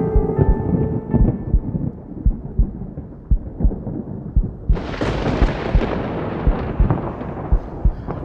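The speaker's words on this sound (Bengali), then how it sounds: "আচমকা ঘরের বাইরে বাগানের দিক থেকে চোখ ধাঁধানো একটা প্রবল ঝলকানি আর বেশ জোরে বাজ পড়ার শব্দে আবার ফিরে এলো আমার চেতনা।" A thunderclap serves as a story sound effect. A low, distant rumble suddenly breaks into a loud crack midway and spreads into a roaring crash, while a steady dull pulsing beat runs underneath.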